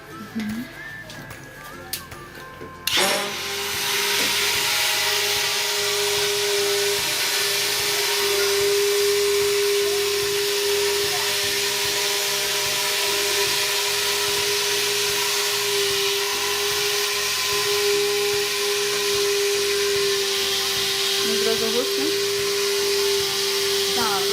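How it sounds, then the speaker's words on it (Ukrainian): An electric blender switches on with a sudden loud whine after a quiet start, mixing oils and liquids for homemade soap, running steadily and close for over twenty seconds while someone talks over it. "Зараз ми її змішаємо блендером."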